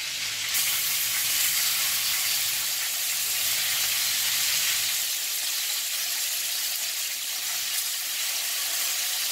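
Country ribs fry in a small skillet with a dense, loud, continuous sizzle and hiss. Fine popping and spitting run throughout and fade a little toward the end.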